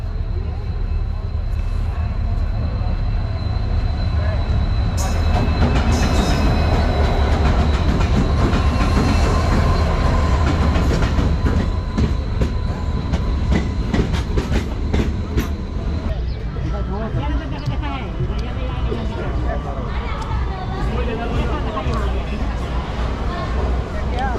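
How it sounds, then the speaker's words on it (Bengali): A passenger train at a station platform rumbles loudly with steady low-end roar and rattling clatter, along with scattered voices and station bustle throughout. "ঠিক 10টা 20-এ আমাদের ট্রেনটি প্ল্যাটফর্মে বসলো"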